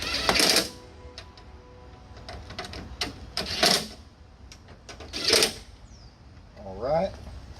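Screws on an AUXITO 3157 switchback turn signal light fitting are driven down tight with a hand tool, heard as several separate bursts of clicking and scraping with quiet gaps between them.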